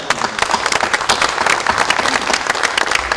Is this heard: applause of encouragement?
yes